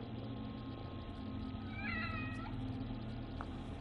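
A house cat meows once in The Evil Within DLC, a short, fairly clear mew standing out over a low, steady droning game ambience, with no talking.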